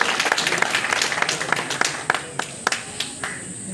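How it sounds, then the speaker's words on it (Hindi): Audience claps for players, including pro kabaddi athletes, at a village honouring ceremony. The loud, crowded applause has sharp individual claps standing out, then it gradually thins into scattered hand claps. "जोरदार तालियां तो बजाते हैं खिलाड़ियों के लिए।"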